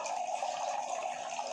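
An electric decorative indoor fountain with a small waterfall cascading around a Shiva lingam, giving a steady, soft splashing rush of running water, close and unbroken, with no talk.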